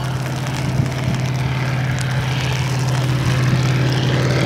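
At a rainy antique airshow, a propeller airplane drones past in a steady, loud engine hum that swells slightly toward the end, with no voices.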